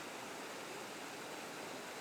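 River water rushes steadily along the Lake Blanche trail, a constant broadband hiss of flowing current, fairly close and uninterrupted, with no voices.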